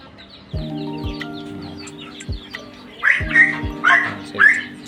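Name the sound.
roosters and hens clucking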